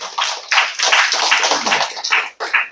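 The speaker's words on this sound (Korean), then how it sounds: "여러분들 박수 한번 부탁드리겠습니다" Audience applause at a company awards ceremony, a close, steady burst of clapping lasting a few seconds with brief dips and a short gap near the end.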